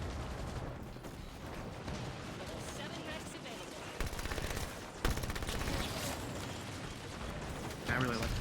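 SMG gunfire in the video game Halo 5, rapid bursts of automatic fire layered over continuous game noise, with a voice talking over the action.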